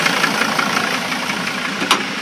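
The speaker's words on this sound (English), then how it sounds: "As you hear starts up, this is a Mercedes diesel." A 2005 Dodge Sprinter 3500 van with a Mercedes diesel engine idles with a steady, rattly diesel clatter, moderately loud and close, with one brief louder knock near the end.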